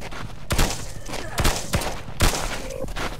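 Gunshots in the PS4 horror game Phlegethon: four sharp, loud bangs spaced roughly a second apart over a murky ambient background.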